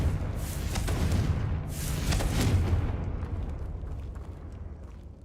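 A Confringo fire spell in Hogwarts Legacy bursts in a roaring, close explosion. Two heavy whooshing surges fade into a crackling tail.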